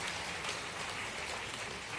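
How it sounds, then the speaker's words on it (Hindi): Dense applause from an audience at a Guru Purnima ceremony at Devi Ahilya University in Indore, a steady wash of many hands clapping at once for the full stretch with no voices. "जोरदार तालियों के साथ हम सभी का अभिनंदन करते हैं"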